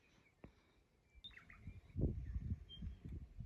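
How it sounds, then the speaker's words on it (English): Birds calling at sunrise in the Big Desert near a dune camp, with thin high chirps and whistles scattered over a low rumbling background. "Listen to those birds."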